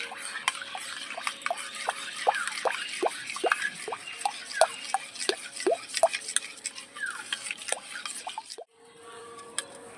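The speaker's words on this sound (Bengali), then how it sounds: "ওই বাটি দিয়ে জল দিয়ে দিচ্ছি আমি দুই বাটি জল দিলাম" Water poured into a semolina and yogurt batter, heard as a busy run of small drips and plops that stop abruptly near the end, with no talk over them.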